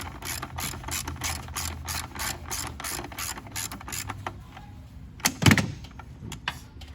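Ratchet wrench clicking in quick, steady bursts while bolts are tightened during a water pump replacement on a 2009 Dodge Charger, followed by a louder clank from the metal work, close and clear with no talking.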